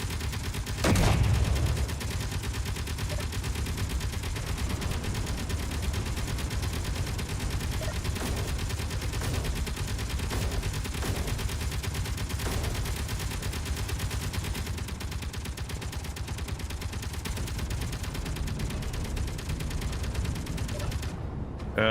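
Heavy guns firing in a video game naval battle, a sustained dense barrage of booming gunfire with a loud blast near the start, continuing steadily throughout.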